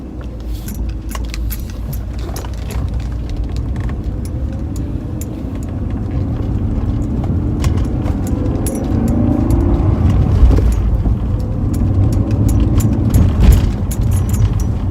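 A high-mileage BMW E46 with a freshly replaced fuel pump drives around the block, its engine and road noise forming a steady, close rumble that grows slightly louder midway, with faint jingling like keys throughout and no talking.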